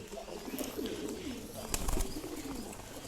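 Pigeons cooing softly in a pair, repeated low warbling coos with a few brief background knocks, fairly quiet and close.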